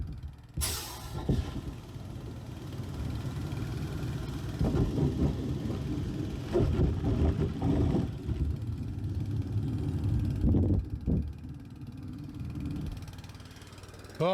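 A maple syrup pump runs with a steady mechanical whir and rattling, punctuated by sharp clicks and clunks, close and fairly loud throughout.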